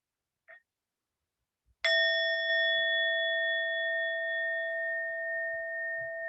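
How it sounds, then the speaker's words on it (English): One meditation bell is struck and rings out with a clear, sustained tone that slowly fades, heard alone in a quiet room. "And we'll have one sound of the bell."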